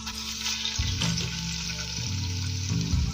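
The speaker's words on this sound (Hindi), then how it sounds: "इसमें हम डाल देंगे प्याज जो हमने स्लाइस कट करके रखे हुए थे" Sliced onions hit hot ghee in a karahi for a beef karahi, giving a loud, steady frying sizzle with a few stirring scrapes throughout, no voices.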